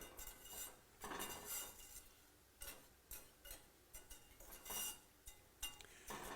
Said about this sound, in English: And just mix it gently. You don't want to crush or break up the tofu.